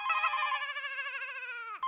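An electronic telephone ringtone trills with a warbling tone, close and clear, then cuts off abruptly near the end.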